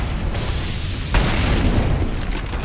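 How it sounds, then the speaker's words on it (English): Grenade explosions in Counter-Strike during an ECS Season 2 finals match, one sharp burst rising over a loud, continuous rumbling game noise, with no one speaking. "Lots of early grenades."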